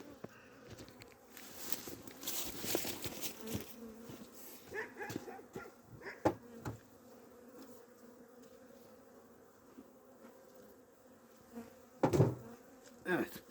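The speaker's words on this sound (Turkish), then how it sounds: "Şimdi bu arıları da buraya silkeleyeceğiz." Honey bees buzzing in a steady drone while being shaken from an old hive into a new plastic-bottomed hive in winter, with occasional louder bumps and knocks.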